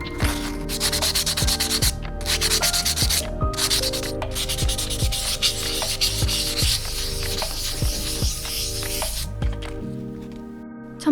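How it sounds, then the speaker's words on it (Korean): A resin galaxy egg being sanded smooth by hand with sandpaper: steady, close, scratchy rubbing in continuous back-and-forth strokes, with a few brief pauses and no voices. "이제 사포를 이용해 매끄럽게 다듬어 줄게요"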